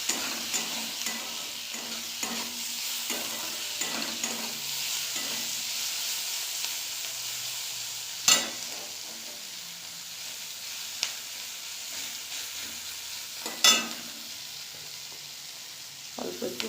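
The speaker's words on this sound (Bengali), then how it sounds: "ভাজা ভাজা মতো করে নিচ্ছি।" Eggs fry in a pan for a Bengali egg pasta dish, giving a steady crackling sizzle broken by scraping stirs of a spatula and a couple of sharp metallic knocks.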